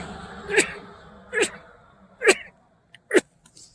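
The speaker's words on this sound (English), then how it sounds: "sorry about the sneezing" Four short, sharp sneezes spaced about a second apart, fairly close and loud, over quiet outdoor background.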